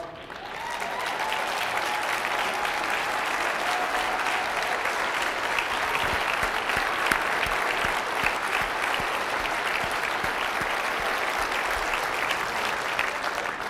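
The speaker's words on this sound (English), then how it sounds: "Will you stand and let us give you a round of applause?" An audience applauds Rotary Club presidents-elect as they stand to be recognized, a steady, dense wash of clapping that holds evenly throughout, filling the room without a break.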